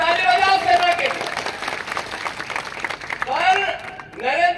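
An audience applauds for the army at a Congress political rally in Madhya Pradesh, steady dense clapping rising under a loud amplified speaker's voice and crowd noise.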